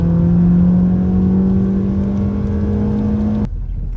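A rally car engine holds a steady, loud droning note that climbs slightly in pitch as the car pulls away, then cuts off abruptly near the end, leaving a duller rumble.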